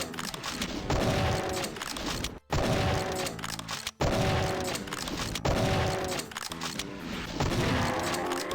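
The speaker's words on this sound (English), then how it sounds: "There's a Baron of Hell here, who I'm more than eager to destroy with the Defender of the Faith." Defender of the Faith weapon in Doom II firing at a Baron of Hell, heard as loud, dense repeated blasts in bursts with a couple of sharp cuts between them and a tonal game soundtrack underneath, with no talking.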